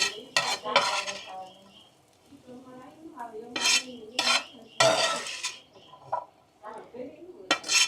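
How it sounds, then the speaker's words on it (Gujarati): A spoon scrapes and clinks against a pan as cheesy butter masala jinjara, a Gujarati street-food dish, is served into a dish; the sharp metallic scoops come in irregular bursts, with a voice talking quietly between them. "હવે આપણે એક ડીશમાં આપણે સર્વ કરી લઈએ।"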